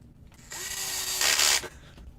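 A power drill drives a screw into an Axial SMT10 RC monster truck during assembly, a single close whirring run of about a second that rises in pitch and bites harder before stopping abruptly.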